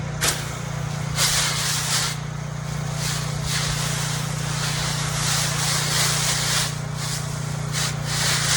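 A low-pressure tip sprays water over a bush beside a cedar fence, rinsing chemical off, in broken bursts of hissing spray against a steady low engine hum from the pressure washer.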